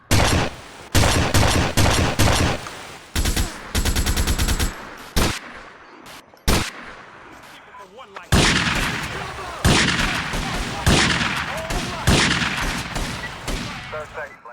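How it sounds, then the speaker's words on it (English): Classic Vice City weapon sounds in a GTA Vice City remake mod: loud rapid automatic bursts and single shots, broken by short gaps, then a long sustained volley of gunfire. "The next piece of the puzzle is classic Vice City weapon sounds."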